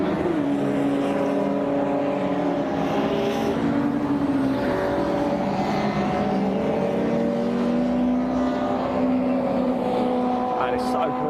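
Several saloon racing cars, including a Honda Civic, Peugeot 306, Ford Fiesta, Citroen Saxo and Vauxhall Corsa, drone steadily around the Brands Hatch circuit, their engines overlapping in a continuous loud rumble with rising and falling pitches.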